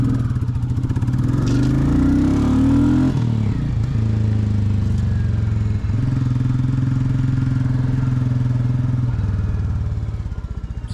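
A Royal Enfield Classic 350 motorcycle engine with a cheap aftermarket shorty bottle exhaust silencer rumbles loudly and continuously nearby with a deep, throaty exhaust note, revving and shifting pitch a few times before settling.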